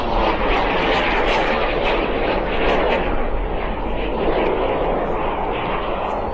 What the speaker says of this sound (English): this was the first of the aircraft, the jet mini aircraft, to come from the Subsonics factory